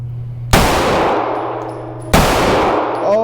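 Two sharp, loud shots from a Walther PDP 9mm pistol crack about a second and a half apart. Each one rings and decays briefly before the next, with no voices between them.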